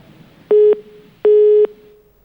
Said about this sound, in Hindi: फोन कट गया है, फोन कट गया है